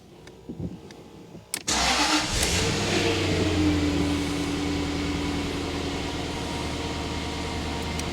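A Jaguar V8 engine cranks briefly and catches, then settles into a steady, fairly loud idle with a low rumble that continues alone to the end.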